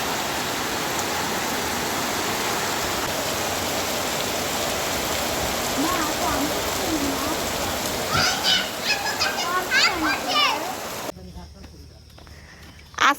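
Heavy rain pours steadily after an all-night downpour in Gazipur, a dense continuous hiss, with voices talking over it toward the end before the sound drops away.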